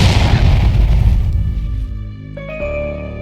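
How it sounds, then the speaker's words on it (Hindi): Bomb blast sound effect, a loud deep boom rolling out for about two seconds, then fading into a thin high ringing tone with no voices. "स्वतंत्रता संग्राम का पहला धमाका"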